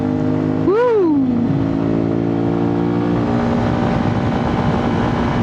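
Suzuki V-Strom 250SX motorcycle riding on freshly fitted Timsun TS880 tyres, a steady engine drone with a brief rising-and-falling pitch sweep near the start, then a constant hum under wind, no talk.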